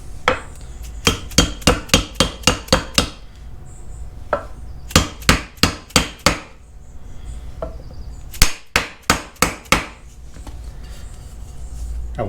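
A plastic hammer drives a part into a tube on a Harbor Freight manual tire changer, producing sharp, loud metallic strikes in fast bursts of five to eight blows separated by short pauses.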